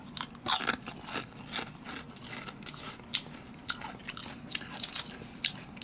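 Repeated crisp crunches of someone biting into crunchy Daily Crave Veggie Chips, close up, with chewing in between and no talking.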